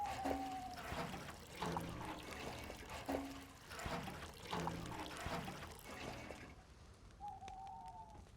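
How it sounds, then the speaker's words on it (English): Water poured into a cauldron in DayZ, heard as repeated quiet sloshing and trickling pours in uneven bursts, with faint bird calls in the background. "If you hear bubbling noises, I put water in the cauldron"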